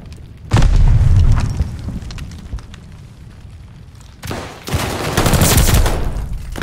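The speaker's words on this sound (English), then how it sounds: "Watch that grenade." A grenade blast booms loudly at the start of a Call of Duty: Vanguard match, followed by a second heavy burst of explosions and gunfire late in the clip, with rumbling battle noise between.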